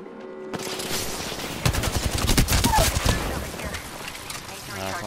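Rapid bursts of gunfire from an Apex Legends firefight, a dense volley of close shots peaking mid-clip over a steady game background, with voices talking around the shooting.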